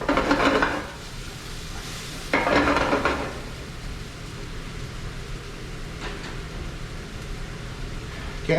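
Vegetables sweat in oil across several pans with a soft continuous sizzle, broken by bursts of stirring and scraping against the pans.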